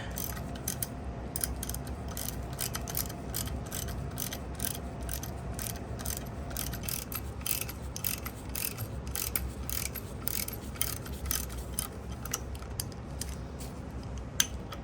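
Threaded studs being worked loose on a Suzuki TS185 motorcycle engine top end, giving a steady run of small metallic clicks and ratchet-like ticks that repeat unevenly over a faint background, with no talking.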